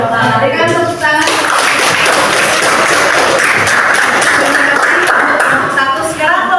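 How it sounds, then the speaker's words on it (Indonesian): A classroom audience of students applauds after a group presentation. A brief voice is heard at the start, then loud, dense clapping continues steadily to the end. "Berikan tepuk tangan."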